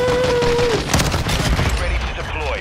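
Call of Duty MW2 gunfire crackles in quick, uneven bursts of shots, with game sound and voices talking over the firing.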